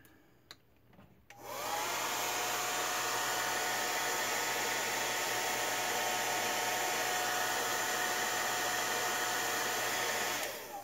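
A hair dryer blows steadily at close range to dry brown paint on a custom Funko POP display stand, running loud and continuous for about nine seconds after a quiet start, with no talking.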